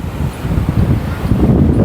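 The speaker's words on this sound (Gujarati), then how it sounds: "હવા બવા ફૂલ આવે છે" Strong wind buffets the microphone at the seashore near Somnath, a steady low roaring rumble that swells slightly toward the end, with no talking.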